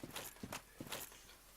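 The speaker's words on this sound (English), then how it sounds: "I could hear their footsteps." Enemy footsteps in Dark Souls, a few distinct heavy thudding steps in an uneven rhythm, faint and somewhat distant, heard without talk.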